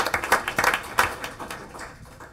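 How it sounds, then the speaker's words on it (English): Scattered audience applause at a school district board meeting, a short burst of clapping from a room of people that peaks early and then thins out and fades. "if we can give them a big round of applause"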